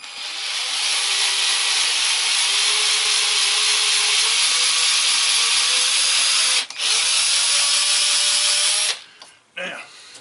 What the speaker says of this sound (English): That'll allow me to drill that 3rd hole